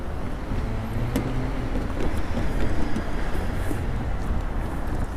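A Norfolk Southern heritage locomotive hauling a train past a trackside camera, a steady broad rumble with clattering rail noise that holds at a fairly even loudness throughout, with no voices.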